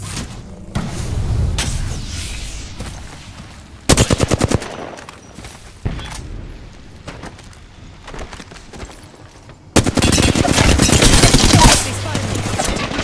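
Automatic gunfire from an Apex Legends match comes in loud, sharp bursts roughly every few seconds, with a long sustained volley near the end and quieter in-game ambience between.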